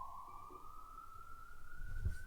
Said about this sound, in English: And we have an ambulance, guest ambulance.